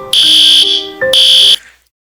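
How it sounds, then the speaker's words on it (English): A loud school fire drill alarm sounds in two harsh electronic bursts, each held briefly before cutting off into silence. "that damn fire drill alarm hits at 11 in the morning"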